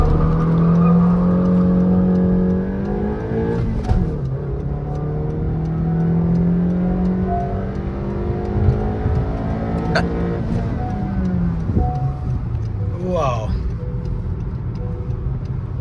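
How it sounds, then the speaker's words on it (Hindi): A fifth-generation Honda City sedan runs a 0 to 100 acceleration test. From inside, the engine note rises repeatedly and dips at each gear shift, with a steady whir and road noise underneath. "सो गाइस गाड़ी का 0 to 100 एक्सेलरेशन टेस्ट करने वाले हैं।"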